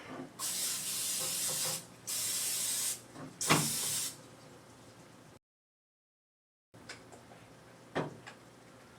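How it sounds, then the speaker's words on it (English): Several short hissing bursts of cooking spray into a baking dish, close up, separated by pauses, followed by a silent gap and a few faint clicks and rustles. "And I'm also going to spray my dish."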